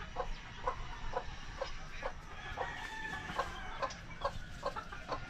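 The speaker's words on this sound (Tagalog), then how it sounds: "Magkukosbreed po tayo ng malalaking manok." Large crossbreed chickens cluck in a yard in short, repeated bursts spread across the whole stretch. The calls sound moderately close over a low background hum, with no talking.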